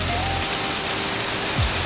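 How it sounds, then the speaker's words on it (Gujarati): Steady, dense roar of heavy rain pouring down on a farm field, loud and continuous with no break for the whole moment. "બહુ જ વરસાદ ચાલુ થઈ ગયો છે"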